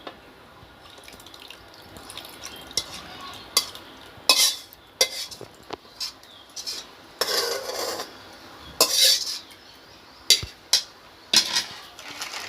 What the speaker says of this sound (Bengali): জাল করিয়ে রাখা দুধটা আমি ডিমের মধ্যে দিয়ে দিচ্ছি